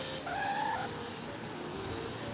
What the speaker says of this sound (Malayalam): ഹെലികോപ്റ്റർ